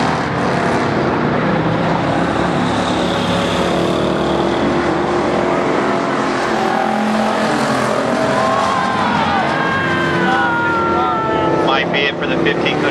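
Pure stock race cars roar around Barona Speedway in a continuous loud engine drone that rises and falls as they pass, with tire squeal and a commentator talking over the action.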